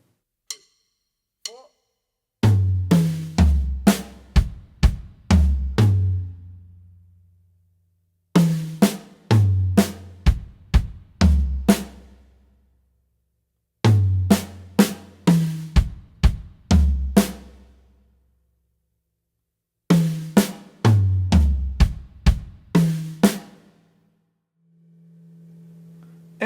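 Beginner drum fills on an acoustic drum kit, with four bursts of rapid tom and snare hits that descend in pitch, each burst ending on a ringing low tom, separated by short pauses, loud and close, no talking.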